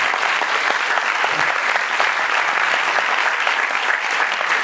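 Loud, dense applause from a packed theatre audience at a French film premiere, a continuous, even roar of clapping hands with no pauses.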